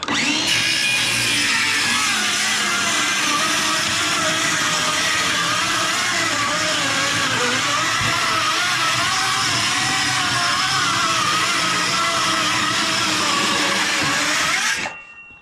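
A loud, steady whine of a power saw cutting a board, set to a shallow depth over a pallet, runs continuously for many seconds, then cuts off abruptly at the end.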